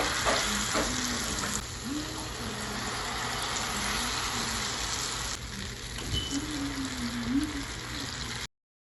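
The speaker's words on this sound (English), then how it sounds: "Let's fry the akara." Akara, thick black-eyed pea fritters, frying in hot oil, giving a loud, continuous, close sizzle and crackle that runs throughout with faint stirring, with no voices.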